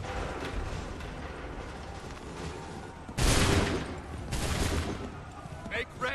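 A musket volley in the video game Assassin's Creed III booms out as a loud, sudden burst of massed gunfire followed by a second rolling volley. Battlefield ambience and shouted orders surround it.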